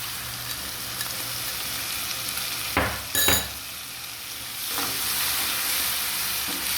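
A spice paste of turmeric, chili, ginger, garlic and cumin sizzles steadily in a pan, with a couple of sharp stirring scrapes near the middle and the frying growing slightly louder toward the end.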